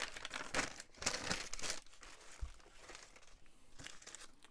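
A faux glassine sheet peeled off its backing: close, quiet crinkling and tearing crackles in a few bursts that fade to soft rustling, with no talking.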